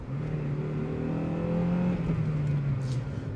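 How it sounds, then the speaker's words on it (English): A Honda Civic Si accelerates hard, its engine note climbing and holding a strong steady drone under load with no talking. "it pulls as hard as a Civic Si pulls"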